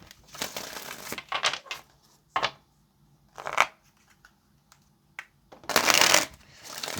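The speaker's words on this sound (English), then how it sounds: "Let's get one more shuffle and then we'll get into it." Tarot cards being shuffled in a series of quick riffling bursts separated by quiet pauses, close up, ending with a longer, louder shuffle; no voices.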